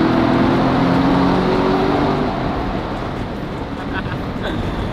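C7 Corvette rolling through a tunnel with the windows down, a loud, steady engine drone and road roar close in that eases slightly partway through.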